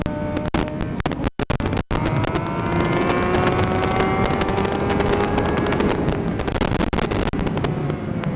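A Suzuki GSX-R750 motorcycle engine roars steadily on a racetrack with rising and falling pitch, revving hard against heavy wind rush, with a couple of brief dropouts early on.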